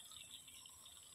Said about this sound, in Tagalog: this is the other faucet